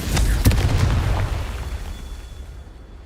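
A Confringo blasting spell goes off in the Hogwarts Legacy video game, a loud booming burst with sharp pops that rumbles and fades away over a few seconds.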